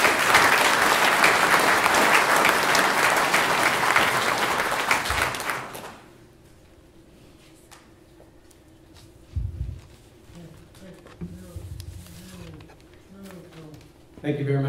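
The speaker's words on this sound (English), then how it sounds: "Let's give them a round of applause." Loud applause from a crowd at a World War II memorial dedication in Walla Walla, honoring active duty service members, lasts about six seconds, then drops to a quiet outdoor hush with faint scattered sounds.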